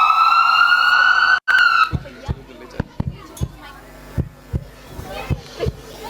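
A siren wails in a school annual function play, a steady electronic tone that cuts off abruptly, followed by scattered thumps and footsteps on stage with voices around.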